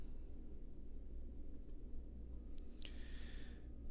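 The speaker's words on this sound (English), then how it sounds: "So I'll click on save and apply, then click OK." Two or three sharp, light clicks of a computer mouse come in quick succession, close and faint over a steady low room hum, with no voices.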